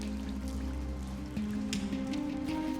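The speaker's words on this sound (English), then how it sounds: "inside, the water is coming through with the same intensity as it's raining outside" Rainwater pours and drips steadily inside an abandoned, decaying cinema on a very wet day, a constant close wash of falling water with scattered drops over a low hum.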